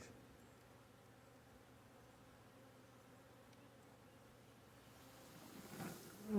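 A low, steady drone of many bees buzzing close by on hive frames while a swarm is installed, fairly faint, with a slight rise and a rustle near the end.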